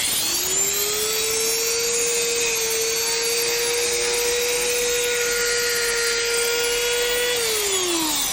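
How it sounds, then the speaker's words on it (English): A Dremel spinning a small rotary rasp against a sign's letters gives a steady high-pitched whine that holds for several seconds and then drops as the tool slows, with no talking. "So all we're using is a Dremel and this little rasp, basically rotary rasp."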